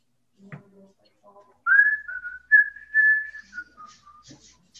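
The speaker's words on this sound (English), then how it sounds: "He's going to whistle at them." A person whistles a short tune, a few sustained and sliding notes heard clearly against near silence, preceded by a couple of faint brief sounds.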